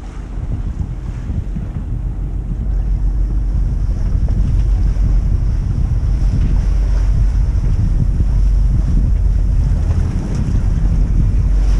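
Steady wind buffeting the microphone aboard a sailboat in the Bay of Naples, with a constant low rumble and a faint wash of water, continuous and loud with no voices.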